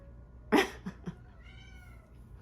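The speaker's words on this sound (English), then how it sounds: "I'm sure you can hear the cat" An upset cat lets out one loud, close meow, then a couple of shorter, softer calls in a quiet indoor room.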